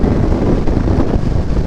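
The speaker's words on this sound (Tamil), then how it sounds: "இந்த 2 மலைக்கு நடுவில் கேப் இருக்கிறதுனால இந்த காற்று பயங்கரமாக வீசும்." Strong wind roaring through a gap between two hills beside a road on tea-country hills, a steady loud buffeting rush that batters the microphone throughout, with no voices.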